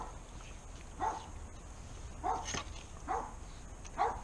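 A dog barks intermittently at a distance outdoors, four short, fairly faint barks spaced about a second apart over low background noise.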